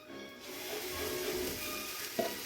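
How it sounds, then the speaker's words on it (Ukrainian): Oil sizzles steadily in a pan as potato pancakes fry, a soft continuous crackle with one brief clink near the end. "а ми смажимо деруни попри всі незгоди"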